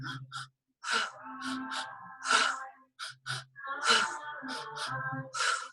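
Forceful pranayama cleansing breathwork: sharp, rhythmic breaths and gasping exhalations repeat in quick bursts, close and fairly loud, with a few short pauses between rounds.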